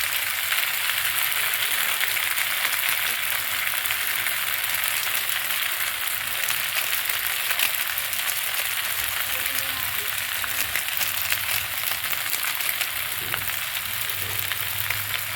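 Pasta fries in a pan with a steady, loud sizzle that runs unbroken, while a spoon occasionally scrapes and stirs through it.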